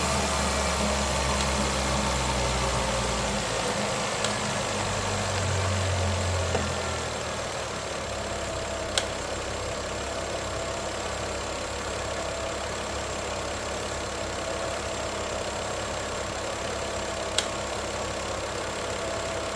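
A Volvo XC60 idles after an alternator replacement, giving a steady, continuous engine hum. A deeper rumble fills roughly the first seven seconds, then the sound settles to an even drone with a couple of faint clicks.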